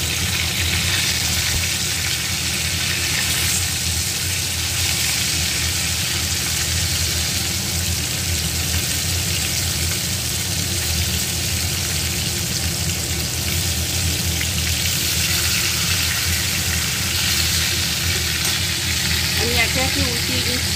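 Fresh rohu fish deep frying in hot oil, producing a loud, continuous, dense sizzle and crackle that holds steady for the whole stretch with no breaks.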